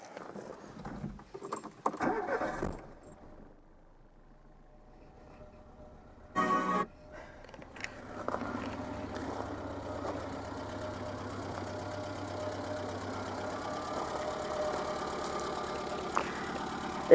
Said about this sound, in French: Allez, démarrage à chaud.